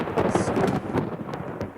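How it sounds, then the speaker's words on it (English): Thunder for a dramatized scene on a heath near Forres, a close rumbling crash with crackling bursts that fades toward the end, heard alone without voices. "A heath near Forres. Thunder."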